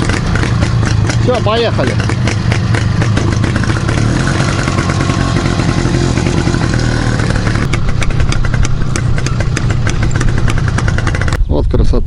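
An old IZh motorcycle, freshly prepared and repainted, runs loud and close with a rough, rattling engine roar that holds steady as it rides off; someone speaks briefly over it.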